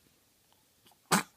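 A child sneezes once, a short loud burst close by after a quiet lead-in, with faint breathy sounds just before it.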